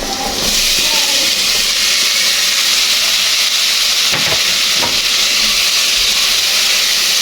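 Onion and tomato sautéing in a hot pan for a Filipino ginisang mais, a steady loud hissing sizzle that holds throughout with a few faint clinks underneath.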